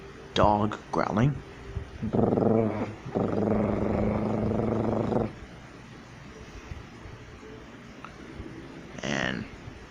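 A person imitates a dog growling up close, producing a couple of short rough bursts and then a long, sustained guttural rumble, ending with a brief vocal sound after a pause.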